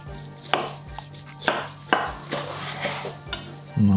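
A knife chops and slices through a juicy meat roll roasted over coals, giving several sharp, close cutting knocks against a board at an uneven rhythm, with a low steady hum underneath and no talking.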